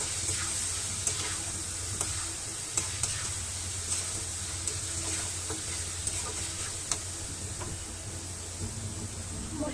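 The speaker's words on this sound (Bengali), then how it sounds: "মাছগুলা আগে মাছ কষাই নিব তারপরে মাছ দিয়ে দেবো" Fish sizzling as it fries in a pan, a steady close hiss with occasional light ticks and clicks of a utensil spaced through the clip.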